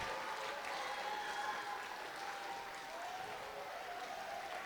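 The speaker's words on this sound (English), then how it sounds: "Yeah, another round of applause." Faint, distant applause from an audience at an elementary school dedication ceremony for fifth grade orchestra students, a steady soft patter of clapping throughout.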